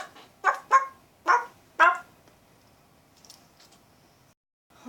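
A person imitates a dog, giving four short, loud barks in a quick uneven run, then faint rustling and a brief sound at the end.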